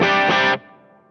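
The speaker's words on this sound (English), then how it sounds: "this is a Sire Larry Carlton L7" Sire Larry Carlton L7 electric guitar with humbuckers on a clean tone, a loud, bright strummed chord struck twice in quick succession, then cut off, leaving a faint ringing decay.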